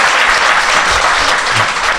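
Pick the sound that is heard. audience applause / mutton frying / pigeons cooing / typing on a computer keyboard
audience applause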